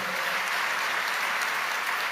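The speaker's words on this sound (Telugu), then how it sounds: "చప్పట్లు కొట్టి దేవుని మహింపరుద్దాం" An audience claps at a religious gathering, a dense, steady burst of applause filling the whole moment.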